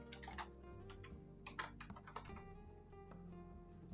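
Keystrokes on a computer keyboard as a local admin password is entered during Microsoft Deployment Toolkit setup, a fairly steady run of close, crisp key taps over a low background hum, with no talking.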